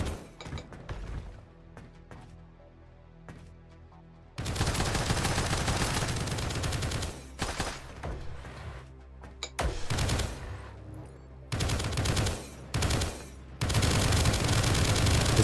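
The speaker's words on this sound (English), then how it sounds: "I'm using the assault rifle out of its intended range." An assault rifle fires in the video game Project Onyx, loud sustained automatic bursts in several long volleys separated by short pauses, close and dominant over a quieter background.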